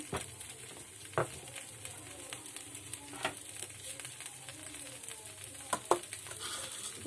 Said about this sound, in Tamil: இப்போது சட்னி தாளிச்சிக்கலாம் கொஞ்சம் எண்ணெய் போட்டுட்டு